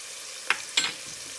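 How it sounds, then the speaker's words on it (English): Seasoned rice sautéed with oregano sizzles in a pot, a soft continuous frying hiss broken by two brief scraping strokes of a spoon close by. "Continue stirring."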